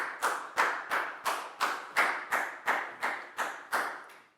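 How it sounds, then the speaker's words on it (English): Eleven single, evenly spaced sharp claps ring out in a steady rhythm in a classroom, each crisp and close with a short decay, no voices between them. "High five and a big round of applause for Lakgao,"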